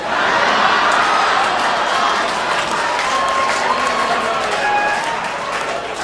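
Audience applause and cheering at a stand-up comedy show, a dense, loud wash of clapping with scattered whoops held steady for about six seconds.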